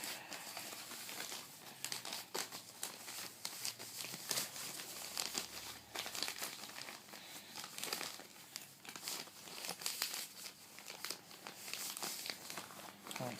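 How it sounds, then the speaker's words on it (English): Paper is wrapped and crinkled around a heat pack while a tarantula is packed for shipping, giving close, quiet, continuous rustling and crumpling with small irregular bursts throughout. "So we wrap it up in a bit of paper"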